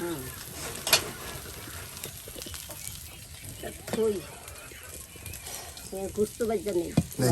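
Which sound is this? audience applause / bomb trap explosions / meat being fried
meat being fried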